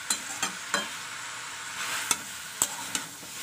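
Pumpkin and tilapia stir-fried in a pan over high gas, with a steady sizzle under sharp, irregular scrapes and taps of a spatula against the pan, several distinct strokes spaced through the clip.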